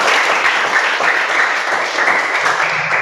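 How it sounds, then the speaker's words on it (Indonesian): A classroom of young pupils claps together, loud, close and sustained, a dense even patter that holds steady throughout. "Sekarang tepuk tangan untuk kita semua."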